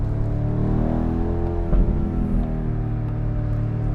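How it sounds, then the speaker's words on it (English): A deep V8 engine of a BMW M850i Convertible in sport mode hums steadily with rich harmonics, its pitch rising and falling slightly as it revs, heard from inside the car. "You can hear the engine sound changing its tune. It becomes more aggressive."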